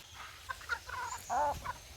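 Chickens cluck softly nearby in short, uneven bursts against a quiet background.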